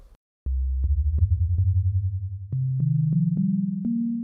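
A soft, pure synthesizer sine wave with an open filter steps upward through a series of pitches, each note smooth and hollow with a faint click at its start.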